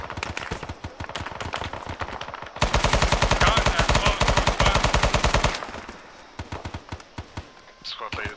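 Gunfire erupts during an enemy contact in the military shooter game Arma 3, rapid automatic bursts with a dense sustained volley in the middle before easing into scattered shots, with voices talking underneath.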